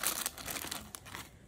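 A plastic bag crinkling and rustling as turmeric is put into it, a quiet, close, brief scrunching with no voices.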